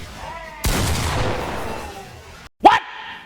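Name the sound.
shotgun blasts in a fighting video game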